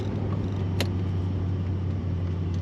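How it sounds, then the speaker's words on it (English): A silver 1978 Chevrolet Corvette L82 25th Anniversary coupe with T-tops and a stick shift, heard from inside while driving: a steady low engine rumble and road drone throughout, with no talking. "Today we're driving a 1978 Chevrolet Corvette."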